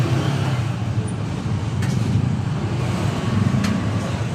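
Road traffic passes outside, a steady mid-level rumble of cars and larger vehicles with a couple of brief sharp clicks, no voices.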